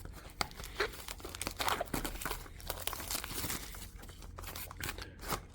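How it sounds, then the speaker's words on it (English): Keys slicing and tearing open the plastic packaging of a Pokémon card box, a close series of crinkling, scraping and ripping sounds. "I'm going to get my keys and slice this open because I don't have a box cutter."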